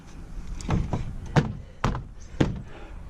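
A car door that has just had its handle repaired is worked in a scrapyard, giving several solid thunks and latch clunks in an irregular sequence, close and fairly loud with no talking.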